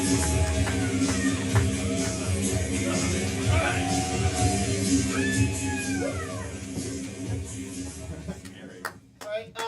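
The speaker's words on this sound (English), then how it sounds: "everyone just shriek like you're scared of a monster" Live Halloween-event audience shrieking together as if scared of a monster, a loud mixed crowd of rising and falling screams and yelps with some laughter and clapping, fading out near the end.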